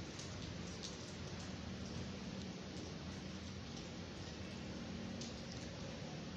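Steady rain falls on Shahrah-e-Faisal in Karachi, a constant, dense hiss of drops heard alone and fairly faint, with no talk.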